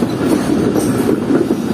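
The Fareed Express passenger train running on the main line toward Karachi, a loud, close, continuous rumble with rhythmic clickety-clack of wheels on rails, no voices.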